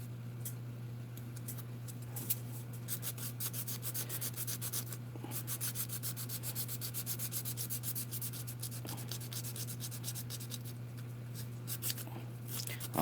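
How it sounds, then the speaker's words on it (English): Steady scraping and rubbing from sanding a beveled edge onto the back side of a scale model part, a continuous close texture over a constant low electrical hum, with no talk. "I'm putting a beveled edge on the back side."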